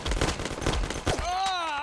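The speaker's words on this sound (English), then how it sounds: "Shoot him a couple of times while he's standing there." A short volley of close gunshots in the Mafia video game, a few sharp cracks in quick succession followed by a rising, wavering tone.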